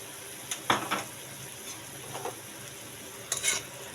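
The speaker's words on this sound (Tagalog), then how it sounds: "Yan, haluin lang natin." Chopsuey vegetables with pork stirred in a frying pan, several quick scraping sweeps of a utensil over a steady soft sizzle, close by.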